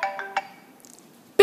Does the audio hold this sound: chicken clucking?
no